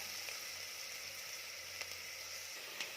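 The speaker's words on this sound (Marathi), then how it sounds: "कांदा आपल्याला परतून घ्यायचा आहे" Onions sautéing in a pan for a Kolhapuri mutton rassa, giving a steady, soft sizzle that runs evenly throughout with a few faint clicks and no talk.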